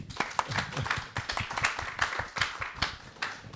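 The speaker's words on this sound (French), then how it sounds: "Et on peut les applaudir." Small audience at a masterclass applauding, close, lively clapping with distinct individual hand claps, steady and uneven in rhythm throughout.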